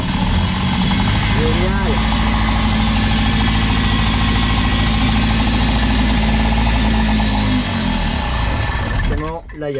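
An Acoma Super Comtesse moped engine, bought for parts, runs at a loud, steady idle with a buzzing, knocking vibration close to the microphone, then cuts out near the end as someone speaks briefly.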